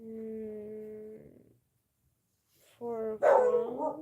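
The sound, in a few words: dog barking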